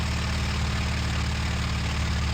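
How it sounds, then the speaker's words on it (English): Steady, loud droning of a fighter plane's piston engine in the flight sim IL-2 Sturmovik 1946, a continuous low hum with a faint high whine and no voices. "I'm going to definitely try and cool off the engine."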